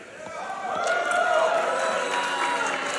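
A split convention crowd at a charity speedrunning marathon reacts to pineapple on pizza, a swelling wash of cheers and mixed shouting that builds and holds loud, with voices blended in the crowd noise.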